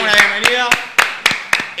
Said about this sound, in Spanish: le damos un fuerte aplauso a Emi Coronel